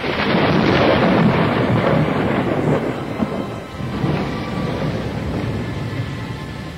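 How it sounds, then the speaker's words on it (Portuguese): A thunder sound effect: a long, deep rumbling roll of thunder mixed with the hiss of heavy rain, loud and continuous, easing slightly midway before swelling again. "Ouviu-se então uma espécie de trovão, indicando que a aparição cessara."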